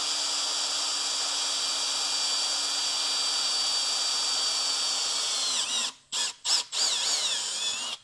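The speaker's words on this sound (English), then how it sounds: "on this aluminum, it's nice and soft. It's not going to be any big deal to drill through this" A drill bit grinds steadily through a thick aluminum intake manifold on a Camaro SS 1LE, a continuous high whine with a faint low hum, then cutting out in several abrupt stops near the end.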